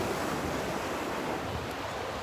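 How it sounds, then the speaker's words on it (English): Rough ocean surf pounding a windy beach, a steady loud roar of breaking waves with wind buffeting the microphone throughout, no voices. "the ocean sounds angry this morning"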